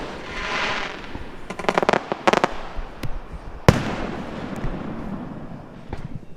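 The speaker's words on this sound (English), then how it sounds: "we got treated to a really awesome fireworks display at the end of the night" Fireworks go off at night: a cluster of sharp cracks and pops arrives in quick succession, then a few more isolated bangs, all over a steady wash of distant crowd and outdoor noise.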